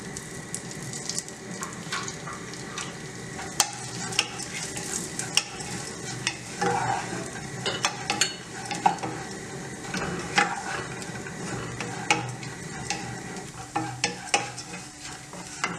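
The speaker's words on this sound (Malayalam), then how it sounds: "നന്നായിട്ട് റോസ്റ്റ് ചെയ്തെടുക്കണം ഡ്രൈ ഫ്രൂട്ട്സ്" Dry fruits roasting in ghee in a pan for laddoo, with a continuous soft sizzle and repeated scraping and stirring taps of a spoon against the pan, close and steady with no talk.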